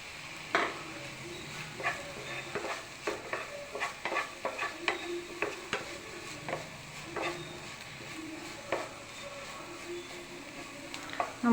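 Tomatoes, onions and green chilies sautéing in a pan, with a spoon scraping and stirring in repeated irregular strokes over a soft background sizzle, close and fairly quiet, no talking.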